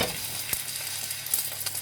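Chicken frying in vegetable or canola oil in a new non-stick frying pan, a steady close sizzle with faint crackles and a few soft pops, no voices.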